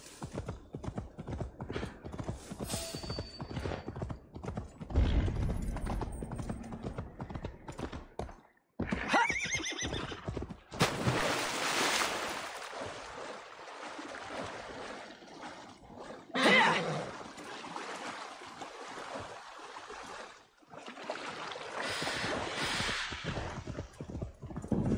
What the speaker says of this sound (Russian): Бедная лошадь.